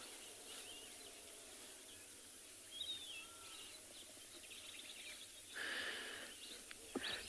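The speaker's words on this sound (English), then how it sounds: "The birds will probably start to get a bit louder. They're quite loud at the moment" Birds calling at sunrise on a safari floodplain, faint scattered chirps and short whistled calls over a constant hiss of insects or crickets, distant and quiet, no talk.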